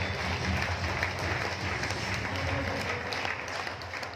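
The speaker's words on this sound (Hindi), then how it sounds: "जोरदार तालियों से इनका भी स्वागत करेंगे।" An audience at a motivational talk in Chhatrapati Sambhaji Nagar (Aurangabad) breaks into loud, sustained applause, a dense wash of clapping throughout.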